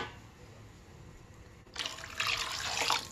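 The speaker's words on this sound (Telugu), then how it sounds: "సరిపడినంత వాటర్ కూడా వేసుకోవాలి." Water poured into a cooking pot of rice for chicken pakoda rice, a soft splashing stream starting midway and continuing steadily to the end after a quiet start.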